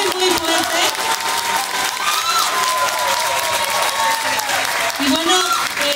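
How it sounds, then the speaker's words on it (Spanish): A crowd at a branch contest awards night in Xalapa, Mexico, breaks into loud, sustained applause for the participants, with dense clapping mixed with cheers, shouts and voices close by. "les voy a pedir un aplauso para todas las ramas que participaron esta noche, pero muy muy fuerte"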